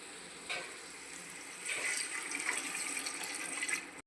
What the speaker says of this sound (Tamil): கப் அரிசிக்கு 4 கப்பு தண்ணி சேர்த்துக்கலாம்.